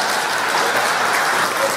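Dense audience applause at a comedy show, a loud, even roar of many hands clapping together that fills the whole short stretch with no talk over it.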